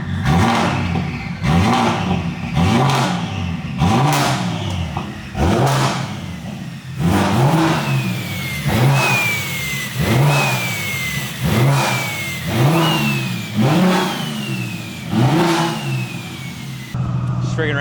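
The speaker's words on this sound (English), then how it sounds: "I can even rev it right now a little bit. I'll rev it." A 1000 hp single-turbo BMW M4 CS engine is revved repeatedly in short bursts, about ten loud close blips, each rising and falling back. Turbo whistles and flutters follow the later blips.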